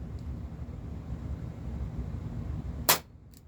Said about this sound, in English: Shot number 45, still well over 300 feet per second.